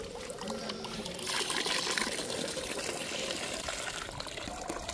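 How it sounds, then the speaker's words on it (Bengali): Water pours and splashes continuously over hands during a hand wash in a home kitchen after making flatbread, steady and fairly close, growing slightly louder midway, with no talking. "হাতটা ধুয়ে নেবো এই জলেই।"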